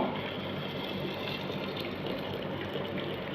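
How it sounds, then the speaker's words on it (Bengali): Water pours steadily into a pot for mutton nehari, a continuous close gushing and splashing that holds even throughout without pause. "এখন দিয়ে দেব আমরা পানি"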